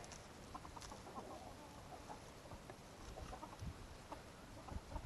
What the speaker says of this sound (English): The chickens have already started scratching it out.